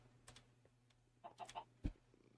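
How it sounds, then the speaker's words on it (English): A Minecraft chicken gives a few short, soft clucks in a quick cluster, faint and alone against quiet background game ambience. "A chicken?"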